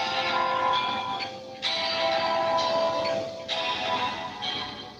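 A song from the video game Five Nights plays as a bright, metallic, bell-like tune in a few repeating bursts, steady and fairly loud with no talking.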